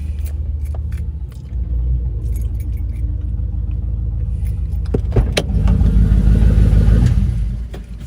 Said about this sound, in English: that employee is going to bring his vehicle out